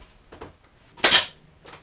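A pin nail gun fires a pin into a wooden nightstand cabinet during a boat refit. It gives one sharp, close snap in a quiet room, with a few faint clicks and taps around it.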